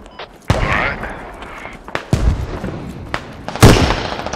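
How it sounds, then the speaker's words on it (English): Mortar shells land in the video game Squad as several heavy booming impacts spaced about a second apart, some close and sharp, others more distant, with rumbling tails between. "friendly mortars coming down on F5, TAC-3, TAC-3"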